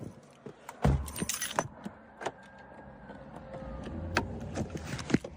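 Keys jangle in a tense roadside public confrontation, sharp metallic rattles bursting out in clusters over a busy street background with passing car noise.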